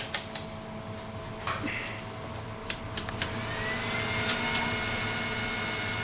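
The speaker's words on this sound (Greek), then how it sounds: "turbo στα βεντιλατέρ, αυτά που σας είχα πει, για να κρυώσει το ψυγείο." Computer cooling fans and a liquid-cooling radiator's fans set to turbo roar with a steady broadband whoosh and a faint rising whine, close and loud, with scattered clicks on top.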